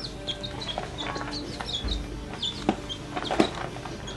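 Young chicks and poultry cluck and peep in a homemade chick house warmed by a 300-watt heat lamp, with short chirps scattered throughout at close range and a few louder calls near the end.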